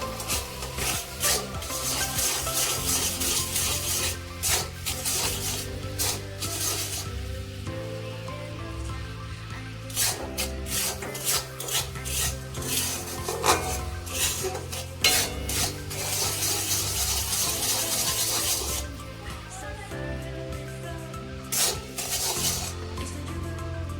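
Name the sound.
stirring jaggery in a wok for chira moa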